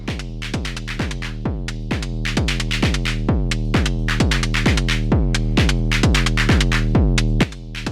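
Eurorack SSF Autodyne with its sidechain filter switched on, producing a fast, regular pumping pattern of bright percussive hits over a deep tone, steady and loud throughout before a brief drop at the end.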